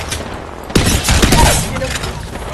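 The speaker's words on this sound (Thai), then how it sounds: "Taking fire." Bursts of automatic gunfire in a firefight in the battle-royale shooter Apex Legends ring out loud and close, a rapid dense volley following a brief lull, with players talking over it.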